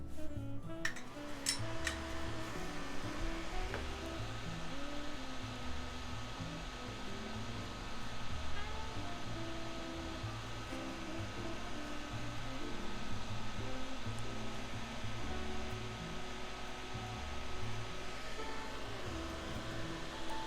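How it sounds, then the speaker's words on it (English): Electric fan running steadily nearby throughout, a constant airy whoosh with a low motor hum, during a keyboard build stream, with no talking over it. "I'm gonna turn on the fan, so you're gonna hear some fan noises"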